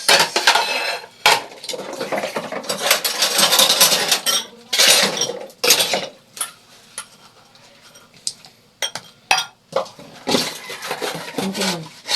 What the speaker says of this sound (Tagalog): Samahan niyo akong maghugas.